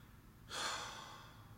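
A single deep breath drawn slowly through the mouth and nose as part of a calm relaxation exercise, a soft airy rush that swells and then gently fades, heard close and alone.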